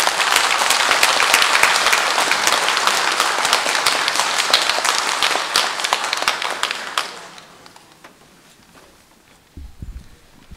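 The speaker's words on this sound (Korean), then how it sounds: "우리 환영과 격려의 박수를 보내도록 합시다." Congregation applause during a Sunday Lent Mass in a church, welcoming a seminarian home on break: loud, dense clapping for about seven seconds that then cuts off, leaving a quiet room with a faint bump.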